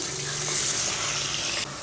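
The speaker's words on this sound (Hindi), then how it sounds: "थोड़ा सा पहले डालते हैं पानी।" Water pours in a steady, hissing stream into a pan of spices with salt and mango powder, close and loud for about two seconds before cutting back slightly.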